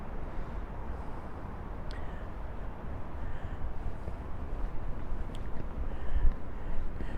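Strong gusting wind sweeps along a Blackpool street the morning after Storm Agnes, a constant heavy roar of buffeting air across the microphone that builds toward the end, with a couple of faint clicks.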